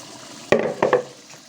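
Spiced, chili-marinated chicken hits a pan of frying onions and tomatoes, giving a sudden loud sizzle with clattering stirs in two or three short bursts before settling into a quieter fry.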